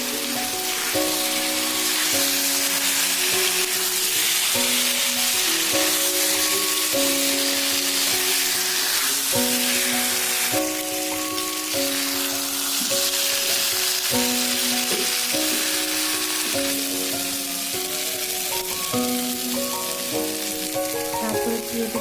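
Fried potatoes and young jackfruit hissing in a pan of spice paste, a loud continuous rain-like sizzle that persists throughout, accompanied by soft melodic music in the background.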